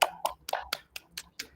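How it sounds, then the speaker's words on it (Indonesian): A small group of students in a school classroom clap their hands during a guidance lesson, giving about seven sharp, separate claps in a loose, fairly even rhythm, close by and moderately quiet. "Sekali lagi tepuk tangan buat kita semua."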